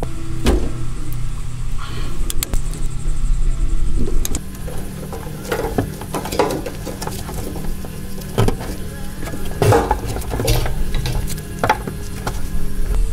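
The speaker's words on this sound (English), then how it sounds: "I'm going to basically put my bung nut removal tool on top, add a 3/8 socket in the top here, and unscrew counterclockwise" A bung nut removal tool driven by a 3/8 socket unscrews the in-tank fuel pump on a 1986 Volvo 240, giving scattered metallic clicks, scrapes and ratcheting knocks at close range over a low steady hum.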